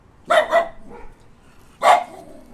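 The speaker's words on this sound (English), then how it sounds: "I think he just heard Hercules barking." A dog barks nearby, two quick barks and then a third after a pause, each one loud and sharp against a quiet room.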